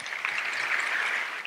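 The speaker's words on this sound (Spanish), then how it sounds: "¡Un fuerte aplauso!" A live audience claps for a school's living nativity performance, a steady, dense wash of applause that holds evenly for about a second and a half before tapering off.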